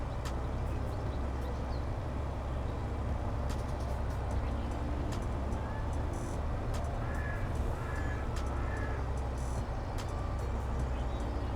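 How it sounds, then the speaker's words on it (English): An eagle in the video game Farming Simulator 22 gives a few sharp, cawing cries partway through, set over a constant low vehicle drone with no talk. "Ooh, an eagle."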